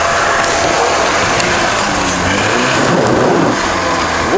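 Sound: 4x4 off-road vehicle revving over an obstacle

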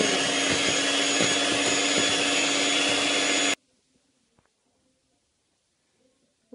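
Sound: electric mixer beating eggs and butter for Kinder cake

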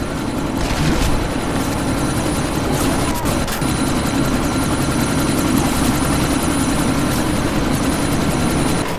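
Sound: helicopter in the video game Deus Ex: Mankind Divided

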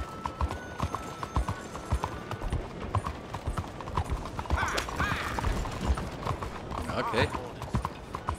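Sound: horse hooves galloping in Red Dead Redemption 2, video game

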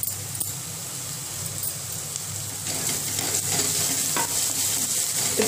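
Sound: onion and garlic paste frying and being stirred in pan

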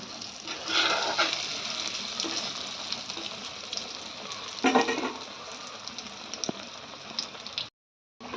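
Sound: crispy pav rolls deep-frying in oil on medium heat

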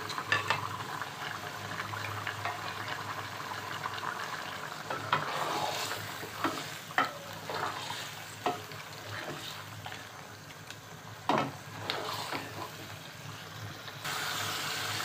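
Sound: chicken and potato curry with garam masala frying while stirred

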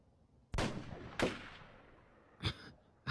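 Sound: gunfire outside

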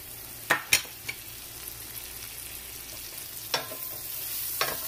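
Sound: onions frying with garlic in a pan

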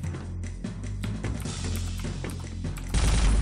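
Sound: boss firing rockets in video game SiN: Wages of SiN

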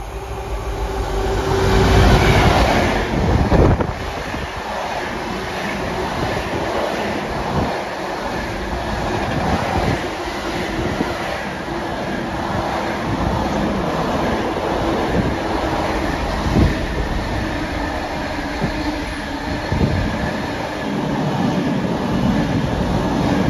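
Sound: freight train passing on railway line

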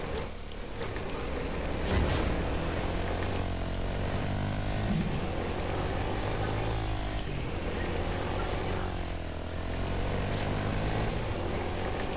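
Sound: propeller airplane flying overhead in a video game

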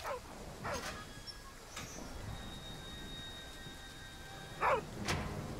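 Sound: dog barking in the video game Deep Beyond

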